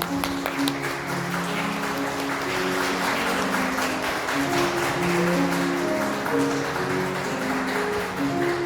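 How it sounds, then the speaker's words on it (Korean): Sustained applause from guests for the bride and groom bowing at a Korean wedding ceremony, steady and fairly loud crowd clapping lasting throughout with no talk over it. "신랑 신부 인사 박수 부탁드리겠습니다."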